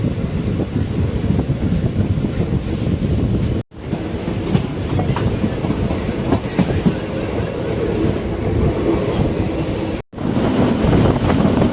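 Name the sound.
passenger express train running on rails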